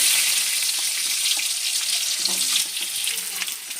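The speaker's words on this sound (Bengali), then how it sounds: "আলুটা একটু ভেজে নেবো" Cut potato sizzles in hot oil with bay leaves, a loud bright crackling hiss that runs continuously and eases slightly toward the end, with a few soft clinks of stirring.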